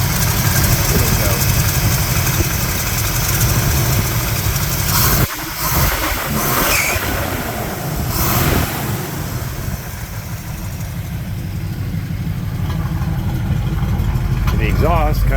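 A 1968 Camaro's 350 V8 with aluminum water pump and exhaust cutouts idles steadily up close, a loud low rumble that briefly shifts around mid-clip as it's given a little throttle, with faint talk underneath.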